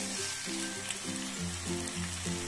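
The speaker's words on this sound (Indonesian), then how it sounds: "lepas tu kita masukkan isi ayam dan juga sosis dan kita goreng sekejap." Chicken pieces and sausage frying in a pan, giving a steady, close sizzle with a hiss throughout. A low tonal hum pulses underneath without any talk.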